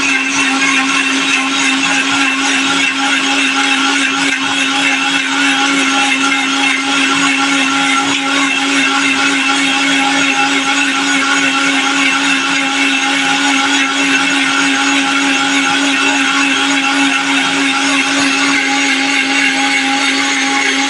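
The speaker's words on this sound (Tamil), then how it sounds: "ஜூஸ் அரைச்சிக்கிட்டு வந்து காட்டுறேன் பாருங்க." A blender grinds an avocado milkshake, a loud, steady whirring drone that runs continuously without pause for the whole stretch.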